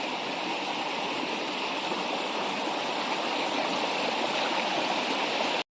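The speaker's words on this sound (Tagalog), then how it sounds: "Linaw ng ilog, oh." A clear river flows steadily and close by, a constant broadband rush of moving water with a gurgling texture that runs unbroken from start to finish, with no talk over it.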